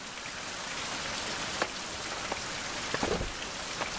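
Steady rain pours in the survival video game Survival: Fountain of Youth, a continuous hiss of drops on surfaces with a few faint gusts of wind and no voices.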